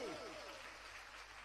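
Steady, dense applause from a crowd at a Jain religious gathering, an even wash of many hands clapping that stays constant throughout, faint and distant, with a voice briefly heard at the start.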